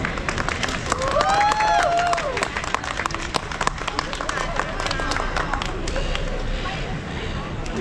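Audience applause for a speaker at a Hong Kong solidarity protest rally held during a Loy Krathong and Halloween event in Australia, a dense crowd clapping steadily for several seconds with a few voices rising over it.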